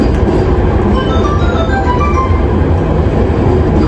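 Jakarta MRT train pulling into Bundaran HI station, a loud continuous rumble of wheels on rails with rising and falling squeals of braking wheels.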